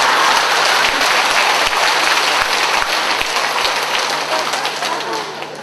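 Steady, dense applause from a lecture audience at a laughter-themed talk in Busan's Yeongdo district office, loud and sustained for several seconds before gradually tapering off near the end.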